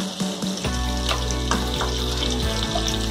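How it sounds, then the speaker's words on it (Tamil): Ginger garlic paste sautéing in melted butter in a pan for paneer butter masala, a steady close sizzle and crackle with a few clinks of stirring throughout. "இஞ்சி பூண்டு பேஸ்ட் பச்சை வாசனை போகிற வரைக்கும் வதக்கணும்"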